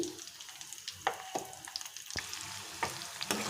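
Cut onion pieces sizzle in hot oil in a pan with crushed garlic, a soft steady frying hiss broken by several sharp crackles and pops spread across the clip, faint and close with no voices.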